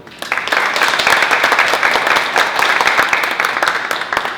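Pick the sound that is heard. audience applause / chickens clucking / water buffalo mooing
audience applause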